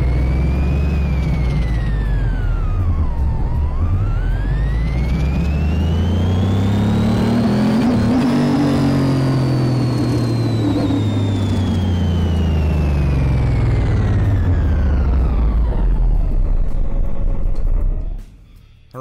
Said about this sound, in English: that is one loud car